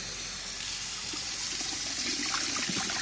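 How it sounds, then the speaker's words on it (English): Tap water running into a kitchen sink while leftover corn is rinsed out of cans, a steady close rushing splash with slight gurgling that builds a little toward the end. "we're gonna rinse them out, get all the corn out of it, pour it in the sink"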